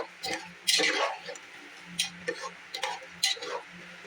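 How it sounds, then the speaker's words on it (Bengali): A spoon scrapes around a pan of chana curry with spices, making several short, quiet, separated strokes and taps close by in an otherwise hushed kitchen. "এবার এগুলোকে একটু আমি নেড়ে ঘেটে নেবো।"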